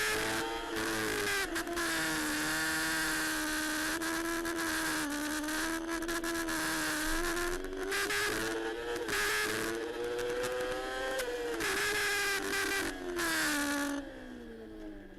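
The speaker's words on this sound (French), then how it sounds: "Et à l'extinction des feux, c'est Hugo Clerc qui décolle le mieux" Superbikes roaring off the line at the start of a French Superbike Championship race in Albi, a dense, continuous high-revving engine wail with shifting pitch that fades near the end.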